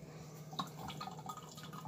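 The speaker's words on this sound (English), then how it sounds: "And it's still pouring." Homemade cranberry juice pours and drips into a jar, a steady close trickle of liquid with scattered distinct drops over a faint background hum.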